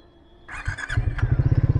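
A Triumph Speed 400 motorcycle's starter whirs briefly, then the single engine catches and settles into a steady, close, throbbing idle with a rhythmic low pulse.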